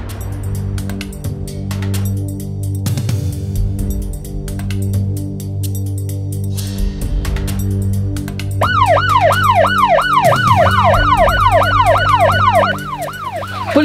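A police-style siren wails over a dramatic TV scene, entering around the midpoint with rapid rising and falling sweeps that grow loud and close, layered over an ongoing low music bed.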